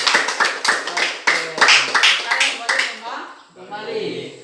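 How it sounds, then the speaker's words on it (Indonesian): Classroom of students clapping for a student in rhythmic bursts with voices mixed in, the claps tapering off as the sound fades near the end. "tepuk tangan buat Luna"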